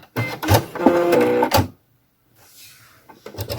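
A Brother Innov-is F420 sewing machine trims its thread: a quick mechanical whir and clatter from close by, then a short pause before a second brief mechanical burst.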